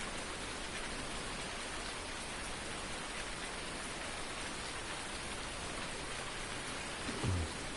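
Steady, dense hiss of rain pouring continuously in Farming Simulator 19, with a brief soft thump near the end.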